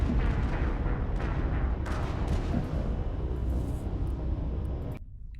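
A turret in the sci-fi game Mass Effect fires continuously, producing heavy low booming and rumbling blasts for about five seconds before cutting off abruptly to near silence.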